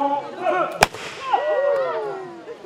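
A single sharp, loud gunshot cracks out during an open-air pirate show in the Audomarois marshes, standing out over the low chatter and voices of the crowd around it.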